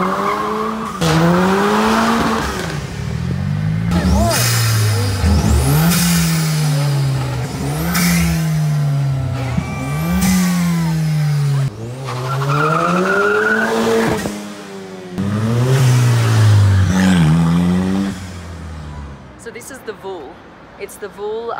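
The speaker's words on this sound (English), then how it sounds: "driving around in Mexico City in a Mexican-made and designed supercar" A Mexican-made VUHL 05 supercar is driven through Mexico City, its engine revving up and down in repeated loud pulls and gear changes, close by and steady for most of the stretch before easing off near the end; a voice talks over it.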